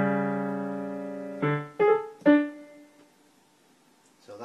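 Solo piano playing a short passage from a song: a sustained chord followed by a few distinct struck notes and chords, close and clear, fading into near silence.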